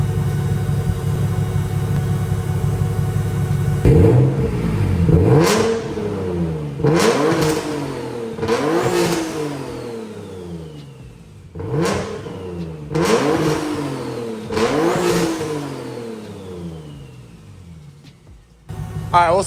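A turbocharged Infiniti G37 engine revs up repeatedly in a series of sharp blips, each rising and falling, with idle rumbling between and brief quieter gaps, fairly close.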